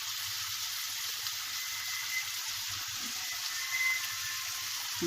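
Spices frying in a pan for samosa filling, a constant close, even sizzle and hiss with no pauses, a few faint crackles rising over the steady frying.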